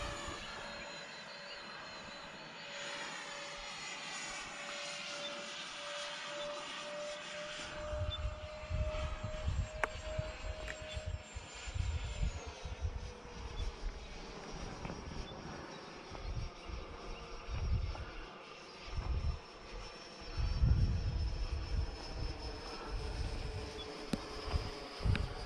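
A Freewing B-2 Spirit RC model jet on its maiden flight gives a thin whining drone that shifts in pitch as it passes, fairly distant, with breezy rumble and handling noise nearby.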